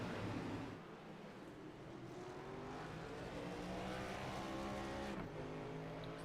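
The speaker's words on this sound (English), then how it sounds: "Pace truck firing up, back up again." A NASCAR pace truck engine at New Hampshire fires up and idles under caution amid constant broadband track noise and roar, with harmonic engine tones rising and falling and a brief pitch shift near the end; no talking.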